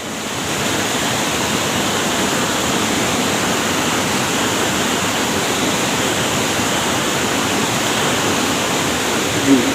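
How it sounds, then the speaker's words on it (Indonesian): Waterfall at Keumumu Seberang village roaring as a loud, broad, unbroken rush of falling water that stays constant and near throughout. "Itu air terjunnya teman-teman."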